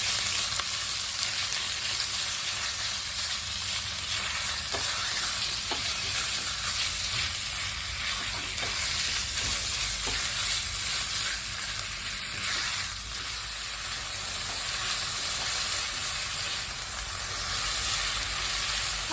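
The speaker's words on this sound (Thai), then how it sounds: "ใส่หมูลงไปผัดค่ะ ผัดหมูให้สุก" Pork stir-fried with garlic in a hot pan, a steady close sizzle running throughout with light scraping and stirring clicks scattered through it, no voices.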